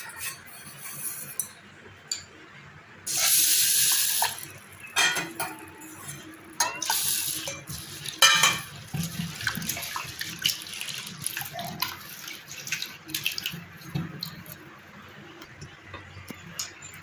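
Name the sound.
washing split moong dal in water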